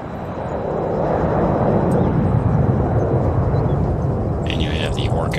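Helicopter in the Arma 3 military video game: a steady, loud rotor and engine rumble fills the scene, with a few faint higher clatters near the end.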